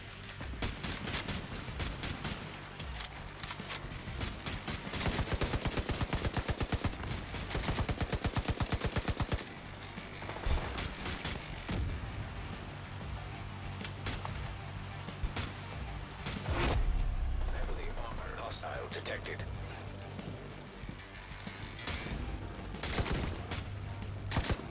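Sustained gunfire from The Division 2 shooter game, with dense automatic bursts and single shots crackling almost continuously over a steady bed of in-game ambience, loud and close throughout.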